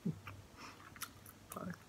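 Close, soft chewing of salmon and tuna sashimi, slightly crunchy, with a few wet bites and crunches spread over two seconds and no talking.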